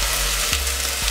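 Onions sizzle with mutton in a pot, giving a steady, close, dense frying hiss with no pauses over one short moment.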